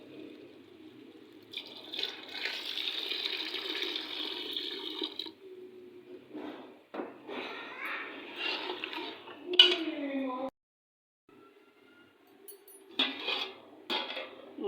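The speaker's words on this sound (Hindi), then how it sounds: "तो अब जो मैंने पानी बॉईल करके रखा हुआ है उसको मैं इसके अंदर डालूँगी।" Boiled water poured into a pot of chickpea masala, a sizzling, splashing rush in several bursts with clinks of utensils and pot between them, close by.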